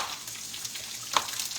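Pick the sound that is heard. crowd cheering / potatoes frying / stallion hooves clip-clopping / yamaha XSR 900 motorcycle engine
potatoes frying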